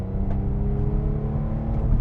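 A Porsche 911 engine with the optional sports exhaust runs steadily with a deep, rumbling exhaust note, holding a constant low throb throughout without talk.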